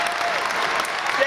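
A wrestling crowd at a 2004 AJ Styles vs. Christopher Daniels match breaks into steady, loud applause and cheering, a commentator's voice riding over the clapping.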